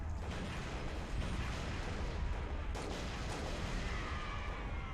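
Grenade explosion and surrounding gunfire in Halo: Reach, a dense roar of battle noise with rumbling low booms and sharp cracks blending together throughout, loud and continuous.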